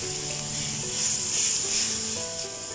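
Grated bottle gourd roasting in a pan for lauki halwa, giving a loud, continuous close-up sizzle and hiss that swells in the middle, with no voices.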